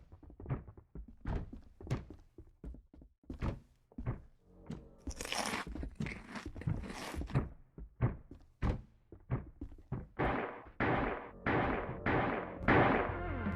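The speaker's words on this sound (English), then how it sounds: "there are the odd explosion sounds that make one nervous" Booming thuds and crunchy blasts from the space-station game UnityStation, a series of sharp, punchy impacts at irregular intervals, some near and loud, others duller, with denser bursts of crackling noise toward the end.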